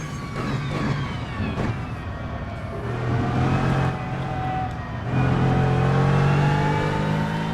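Aston Martin GT3 Evo race car in the Assetto Corsa racing game, its engine droning steadily with rising and falling harmonic tones as it accelerates through gears, loud and continuous throughout.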